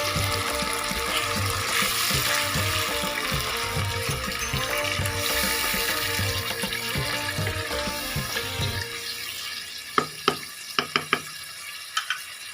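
Chicken with hot garlic and pepper frying in a pan, a splash of water added: steady loud sizzle and bubbling for most of the time, then quieter with a few sharp clinks of a utensil near the end.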